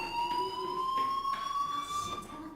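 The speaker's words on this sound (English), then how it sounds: "Hey, do you hear that fire alarm?" A school fire alarm rings in the video game Life is Strange, a sustained electronic tone pulsing in short repeated bursts, fairly loud and steady over faint background noise.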